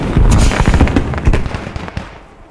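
Explosions rattle through a match of the video game Defense of Carentan: a cluster of loud, close booms and crackling blasts in quick succession, fading into scattered smaller pops.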